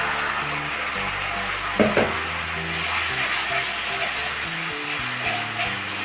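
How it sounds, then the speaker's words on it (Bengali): Onion paste with cumin paste, salt and turmeric sautéing in a pan, a steady close sizzle with a few scraping stirs, and faint background music underneath. "দিয়ে ভালো করে কষে নেব সব মশলাগুলো।"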